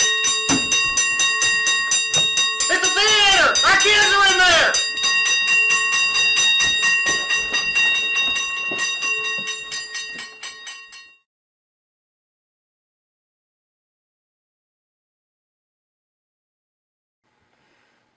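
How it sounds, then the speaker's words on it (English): A theater fire alarm bell rings loudly and continuously, while someone shouts in alarm over the clanging partway through; the ringing cuts off abruptly, leaving silence. "That's the fire alarm!"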